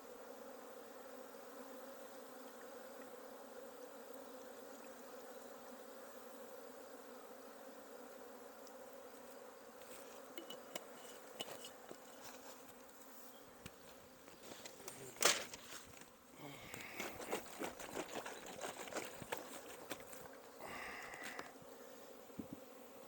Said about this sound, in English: This is the other swarm.